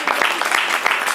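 Audience applause at a Rwandan poetry event, a brief burst of dense, steady clapping that stays loud throughout.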